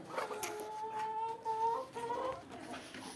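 A large flock of chickens clucks and murmurs nearby on a rainy day while feeding on lettuce, strawberries and kiwi, with overlapping short calls and a drawn-out tonal squawk.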